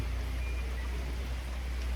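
Rain falling steadily at night, a soft continuous patter with a low rumbling background, faint and unbroken.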